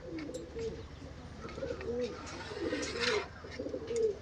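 Several pigeons coo in low, rolling phrases that repeat through the clip, with a faint chirp or two and steady background rustle.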